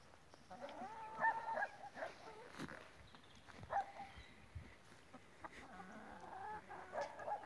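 Chickens in a mobile electric poultry net within a forest garden, soft intermittent clucks and short calls at close range, quiet and scattered against a low outdoor background.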